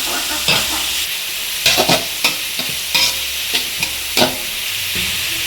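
Onions sautéing in a pan for mutton kuzhambu, a steady sizzle with repeated sharp scrapes and clacks of a spoon stirring against the pan, close and clear, with no talk.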